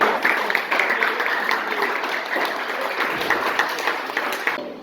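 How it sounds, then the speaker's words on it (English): Audience at a mock political debate for civic education applauding a party team, a dense sustained burst of clapping from a room full of people that stays steady before cutting off at the end. "round of applause"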